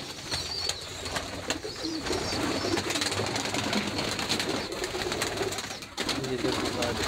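A native dove coos steadily over a constant bed of other bird sounds, moderately close, with a brief dip near the end.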